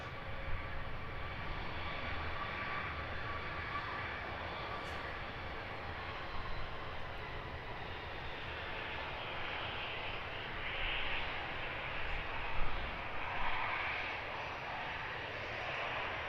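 Wizz Air jet airliner at Luton Airport, a steady broad engine roar held at a distance throughout, with a constant high whine and slight swells in loudness, no talking.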